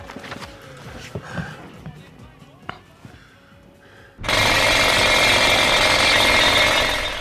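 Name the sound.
drilling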